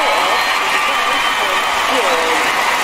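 Crowd applause and cheering at a Tokyo 2020 Olympics shooting event: a steady, dense wash of clapping that holds for the whole stretch, with a commentator talking over it.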